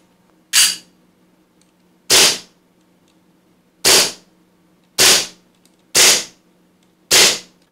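A Cybergun/KWC Colt 1911 100th Anniversary airsoft pistol firing six sharp, loud single shots at uneven intervals of about a second, with near silence between them.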